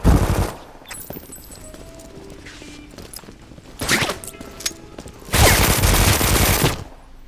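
Automatic gunfire from a shooter in the video game Brink, heard as three separate loud bursts of rapid shots at the start, middle and end, with quiet mechanical clicks and footsteps between them.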